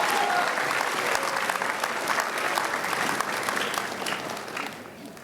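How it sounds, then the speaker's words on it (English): A large graduation audience at a high school ceremony applauds steadily, dense clapping filling the hall for several seconds before easing slightly at the end. "give them all a big round of applause"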